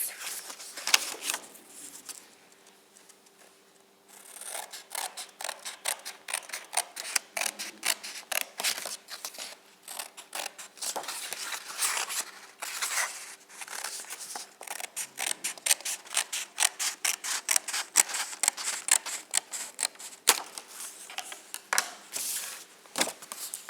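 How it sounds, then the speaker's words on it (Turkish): Scissors snip through sheets of colored cardboard paper in rapid, steady rhythmic cuts, close and crisp, continuing for about twenty seconds after a brief quieter start, with no talking. "Şimdi kesim işlemine geçiyoruz."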